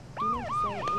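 An ambulance siren in the video game Arma 3, a wailing tone sweeping up and down in repeated cycles, loud and near.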